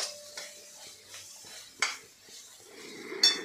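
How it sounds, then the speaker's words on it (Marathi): Spices being mixed and sautéed in a pan for methi bhaji, with a utensil scraping and clinking against the metal in several sharp strokes over a faint sizzle, close up, no talking. "आता हे सगळं आपल्याला मिक्स करून घ्यायचं आहे आणि 1-2 मिनिटं फक्त आपल्याला परतून घ्यायचं आहे"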